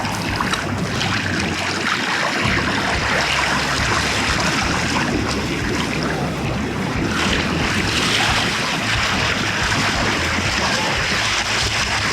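A kayak (JK Knarr) pushed at full throttle by a Torqeedo 1103 electric motor, heard as a steady loud rush of water and wind buffeting the microphone, continuous with no voices.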